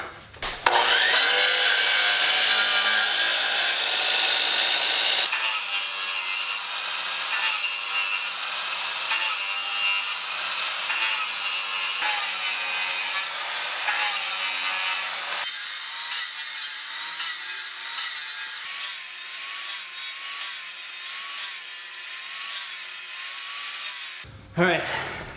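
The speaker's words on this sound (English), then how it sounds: "now for a series of relief cuts" A miter saw cuts a series of relief cuts into wood with its depth stop set, the blade whining loudly and continuously through repeated passes before spinning down at the end.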